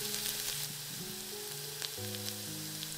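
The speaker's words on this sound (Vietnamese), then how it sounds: "Rồi 1 muỗng canh tỏi bằm. Mình sẽ phi lên cho nó thơm." Minced garlic frying in cooking oil in a pot, a steady close crackling sizzle throughout, with music playing underneath.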